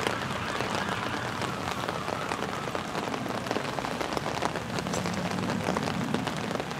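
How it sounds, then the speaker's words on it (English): Steady rain falls continuously on hard outdoor surfaces, a dense, close hiss of drops with no pauses and no voices. "Rain."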